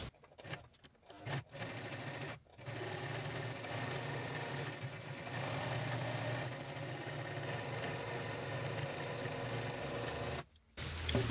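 A sewing machine fitted with a standard presser foot stitches a zipper into a ruffled dress with built-in cups, humming close and steady for several seconds, with brief pauses near the start and end.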